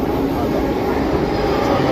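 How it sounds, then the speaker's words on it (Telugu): A Bengaluru metro train at a station produces a steady, loud rumble and hiss of rolling wagons, continuous throughout with no pauses. "రైలు"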